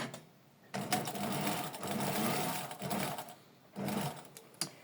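A domestic sewing machine running a zigzag stitch on a border edge, sounding in three close, loud bursts of rapid mechanical whirring with short pauses between them.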